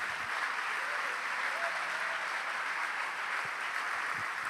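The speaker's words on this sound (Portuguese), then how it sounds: "Vamos aplaudir mais ao nome de Jesus." A church congregation applauding together, a steady, dense wash of clapping held at an even level from start to finish, with no pauses or breaks.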